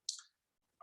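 A sharp mouse click opens a web app link into a new browser tab, a single crisp snap heard alone, followed by a faint second tick at the end.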